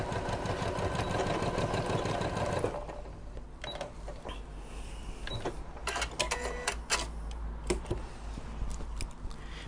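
A sewing machine stitches down the sides of a fabric medication bag organizer in a short dense burst, then cuts to quieter ticks and clicks of the machine and handling, with no talk.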